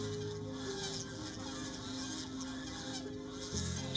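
Geese honking at a poultry farm in a Rohingya refugee settlement in Bangladesh: a dense, continuous chorus of overlapping honks from a flock, steady and moderately loud throughout.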